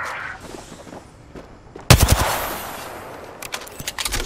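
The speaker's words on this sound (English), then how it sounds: "Taking fire." Gunfire in the video game Apex Legends: after a quiet stretch, a sudden loud burst of rapid automatic shots, followed by scattered echoing single shots and lingering battle noise.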